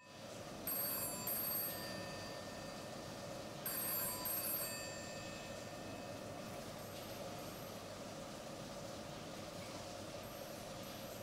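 A telephone rings unanswered in two separate bursts of trilling bells over a low, constant rumble, with no one picking up.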